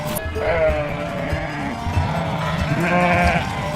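Several sheep bleat in an animated series, overlapping wavering cries close up and fairly loud, over a busy low background.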